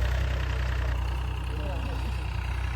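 A tractor engine runs steadily at a low idle on a farm field, with a constant close rumble and a voice faintly heard over it.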